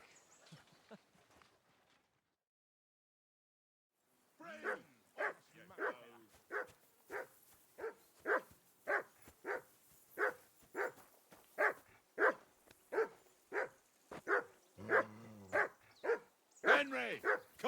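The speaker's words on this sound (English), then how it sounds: "Henry, call that dog to heel." A dog barks over and over in the medieval game Kingdom Come: Deliverance 2: a steady run of about a dozen loud, evenly spaced barks after a short lull, with a whimper near the end and brief talk at the start.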